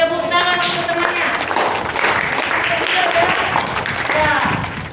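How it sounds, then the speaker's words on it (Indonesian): A classroom of students breaks into sustained applause for a classmate, dense, loud clapping close by that continues steadily for several seconds with a voice briefly over the start. "Tepuk tangan untuk temannya."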